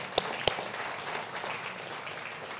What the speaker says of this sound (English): I think we should applaud to that.